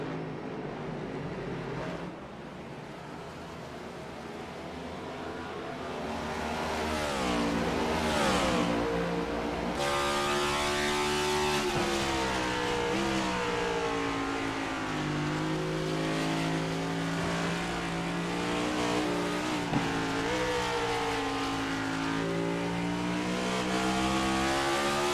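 Race car engines roar and rev steadily in iRacing at Watkins Glen, a loud continuous drone with shifting pitch as cars accelerate and downshift, occasional tire squeal, close and sustained throughout.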